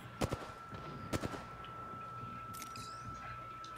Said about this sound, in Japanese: なんか今銃声聞こえなかった。